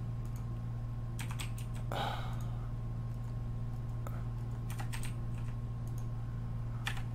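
Rapid clicking during a Minecraft session, quick bursts of crisp close clicks in irregular clusters over a constant low electrical hum, no talk.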